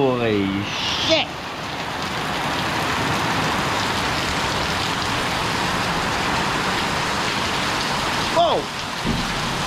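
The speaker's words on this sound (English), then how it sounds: "Man, I don't ever see rain like this." Heavy rain pours down in a dense, constant hiss that drums on surfaces, loud and unbroken, with a man's brief exclamation near the start and another short vocal burst near the end.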